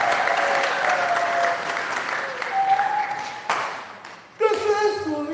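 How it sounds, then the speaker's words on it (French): A church congregation breaks into applause, a dense spread of clapping that swells, dips briefly and then rises again near the end, with some voices mixed in among the claps. "Applaudissez pour moi."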